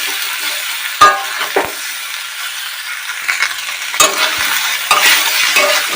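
Soaked, softened soybean chunks frying in a pan, giving a steady close sizzle broken by several sharp stirring scrapes and knocks, with no talking.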